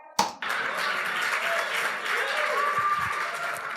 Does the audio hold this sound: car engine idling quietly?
no